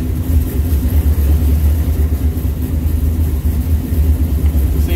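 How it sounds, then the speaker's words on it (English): A Ford Mustang with a ghost cam tune idles close by, with a loud, steady low exhaust rumble that carries an uneven, choppy pulse throughout. "it's already changed camshaft modes and it's chopping it idle"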